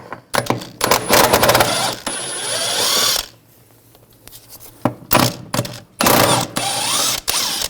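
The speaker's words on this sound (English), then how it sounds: "we're going to take the bolts out up top, use a 16mm socket" Ratchet with a 16mm socket turning the upper rear shock mount bolts on a 2009-2017 Volkswagen Tiguan, close, rapid metallic clicking in several bursts separated by a quiet pause.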